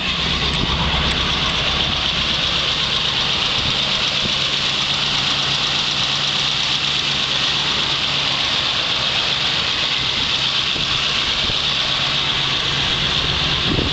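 A 1971 Camaro Z28 engine idles at about 900 to 1,000 rpm in cold weather, a steady, continuous low rumble with a faint mechanical whine, no voices.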